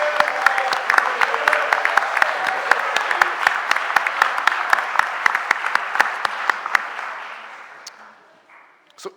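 Audience applause in the Philadelphia City Council chamber during a stated meeting, a moderate crowd clapping with distinct individual claps audible, steady for about seven seconds and then fading out.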